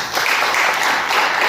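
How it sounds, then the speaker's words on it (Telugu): A church congregation claps during a Christmas celebration at a CSI church, producing a brief burst of loud, dense applause. "We will get big clap for that."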